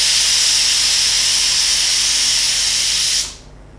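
A pressure cooker cooking masoor dal lets out a loud, steady, close steam whistle-hiss that holds for about three seconds, then cuts off sharply, leaving faint quiet.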